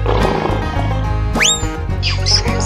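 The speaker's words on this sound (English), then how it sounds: "Lion," A lion roars once in a rising, throaty burst, loud and close, set against steady backing music in a children's animal-sound cartoon game.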